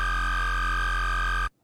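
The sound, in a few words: Serum synth bass house cell phone bass preset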